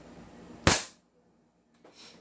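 A Hi-Capa airsoft pistol fires a single sharp, loud crack that fades fast into quiet, and a softer, brief noise follows about a second later.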